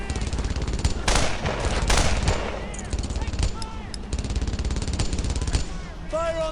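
Dense, loud machine gun fire rattles continuously in the World War II shooter Brothers in Arms: Earned in Blood, with overlapping bursts and shots and soldiers shouting over the din.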